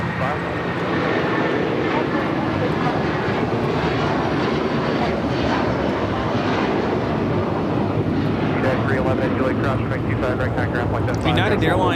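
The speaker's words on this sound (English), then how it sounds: "United Airlines 2113 taking off to Chicago on the 757-300" United Airlines Boeing 757-300 jet taking off at LAX, a loud continuous engine roar with broadband rumble and wind-like noise held throughout, with people talking over it.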